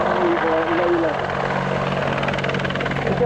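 A Boeing-Westland WAH-64 Longbow Apache helicopter of the Army Air Corps flies low at an air show, a loud steady rotor and turbine roar with rhythmic blade thumping throughout.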